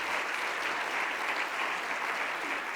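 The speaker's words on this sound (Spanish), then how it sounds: "un aplauso para Carlos," Steady audience applause at a plant health forum in Spain, a dense, even wash of clapping from a seated crowd that holds at the same level throughout.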